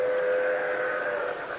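A live steam model locomotive at a train show gives a steady, sustained whistle-like tone over a dense, loud rushing hiss, continuous for the whole moment, with no talk.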